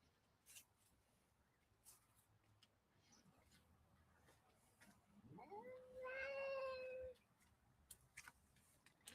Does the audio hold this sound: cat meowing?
yes